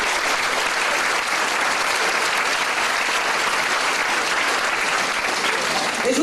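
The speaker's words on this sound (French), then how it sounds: "Donc des grands applaudissements pour tous ces beaux partenaires." A concert audience in a hall gives sustained, even applause that stays loud and dense throughout, a steady wash of many hands clapping with no break.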